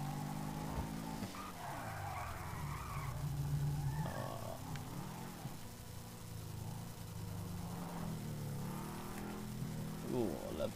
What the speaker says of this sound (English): Ooh, I love the engine noise.